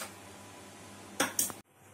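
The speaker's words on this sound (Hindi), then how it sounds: "2 से 3 चम्मच तेल डालिए।" A metal spoon clinks twice against a cooking pan while oil is added for sabudana khichdi, two close, sharp strikes after a quiet stretch of faint kitchen hum.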